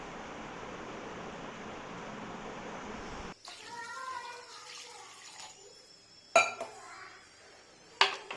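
Country chicken curry gets stirred in a pot after a stretch of steady sizzling or hiss, followed by soft scraping and two sharp metallic clinks of a utensil against the pot.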